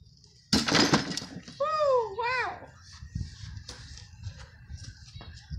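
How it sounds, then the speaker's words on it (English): A small die-cast Matchbox toy car struck and smashed: a sharp, loud crack of breaking at the start, followed by scattered fainter knocks and rattles, with a brief voice-like whine in between. "The first thing we're going to be smashing is going to be this car right here,"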